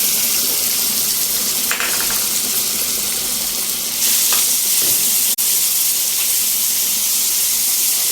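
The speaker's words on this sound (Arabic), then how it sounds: "هنحط بقى البصل." Chopped onions sizzle and hiss loudly in hot oil in a frying pan, a steady close crackle with a few stirring scrapes, while cooking macaroni béchamel.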